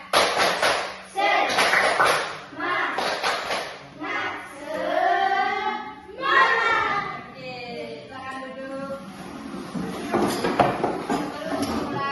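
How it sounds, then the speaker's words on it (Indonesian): A fifth-grade class claps a rhythmic spirit chant together, rapid patterned hand claps in short bursts mixed with children's chanting voices, close and lively. "Tepuk semangat."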